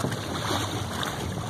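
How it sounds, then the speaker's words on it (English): Wind rushes steadily over a 2017 Hobie Mirage Tandem Island kayak sailing on the York River, a continuous, even roar of breeze and open water with no voices. "There's the wind."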